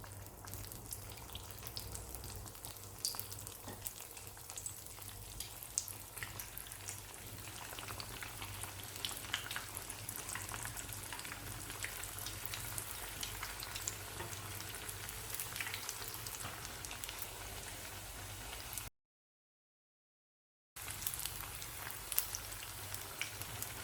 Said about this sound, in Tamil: இப்போ இதை எண்ணெயில் பொரிச்சு எடுத்துக்கலாம்.